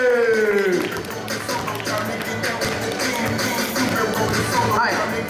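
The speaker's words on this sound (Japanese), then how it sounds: "拍手。" An audience at a Kansai freestyle football competition semifinal in Osaka claps after a falling tone, a steady wash of applause mixed with crowd noise and voices talking over it.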